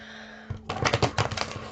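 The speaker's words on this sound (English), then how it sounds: "we are done shuffling the Bianco Nero" A deck of tarot cards is shuffled close by, a quick riffling patter of card edges lasting about a second after a brief quiet start.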